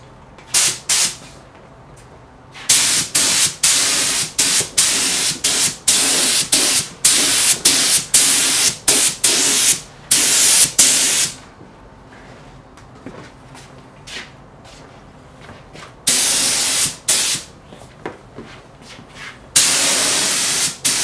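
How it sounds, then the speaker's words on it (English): Lacquer sealer is sprayed onto a Depression-era wooden table top in a series of close, loud hissing bursts, some short and rapid, others held for a second or more, with quiet pauses between them. "the next step is to spray some lacquer sealer on the top."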